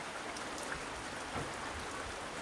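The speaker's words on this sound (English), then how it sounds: "you can see it's still raining" Rain falling outdoors in Alaska's Talkeetna Mountains, a soft steady patter and wash of drops, faint and continuous with no voices.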